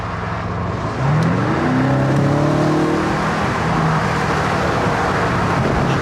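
A car engine hums steadily from inside the cabin while driving, its pitch rising as the car speeds up, beneath a constant broadband roar of road and wind noise.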